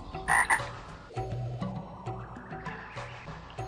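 A chorus of frogs croaking in a swamp, dense overlapping calls with a louder burst near the start, then steady throaty croaks continuing at moderate volume.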